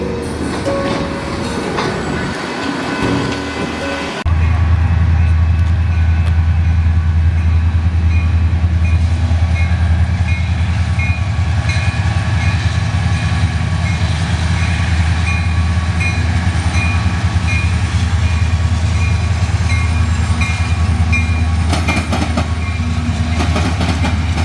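Union Pacific northbound manifest freight train rolling past close by, a loud sustained rumble of locomotive and wagons with steady wheel noise and rail clatter that starts abruptly and continues to the end.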